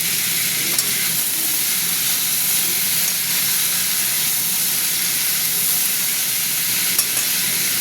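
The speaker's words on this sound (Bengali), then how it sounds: "সবজিগুলো ভাজছি তো" Mixed vegetables for a paneer navratan curry sizzle and fry steadily in a pan, a continuous close hiss with occasional stirring scrapes and no talking.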